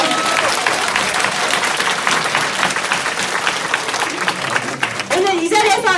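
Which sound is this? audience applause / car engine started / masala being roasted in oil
audience applause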